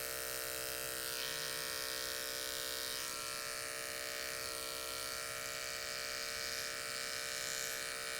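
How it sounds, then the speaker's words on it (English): Electric hair clippers buzz steadily and close up, shaving hair upward for an undercut on a disconnected side part, a continuous motor whine with faint snipping texture and no voices. "So very slowly, we're just going to shave up."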